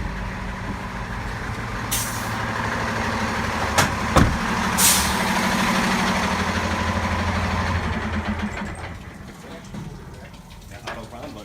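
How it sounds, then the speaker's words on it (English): A Rosenbauer tanker pumper fire truck engine idles steadily while the pump auto-primes in a brief hissing burst and short mechanical rush of water and air, with low rumble throughout. "So the noise you just heard a second ago, that was the auto prime"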